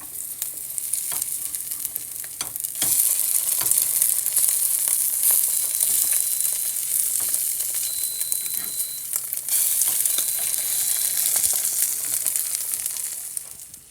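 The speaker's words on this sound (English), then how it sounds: "So now we're gonna flip our eggs." Eggs sizzle steadily in a hot pan on a farm breakfast stove, a loud bright hiss broken by a few scraping clicks of the spatula as they are flipped.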